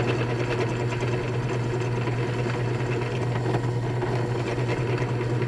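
A power drill runs continuously, boring a 1/16 inch touch hole in a musket barrel for a Paget carbine build. The whine is a steady, loud, close drone with no pauses.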